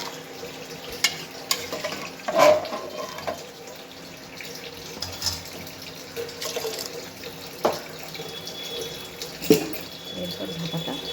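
Water poured into a pan of vegetables being cooked for oats, a continuous running, splashing wash with a faint sizzle and a few clinks, steady and close, no talking.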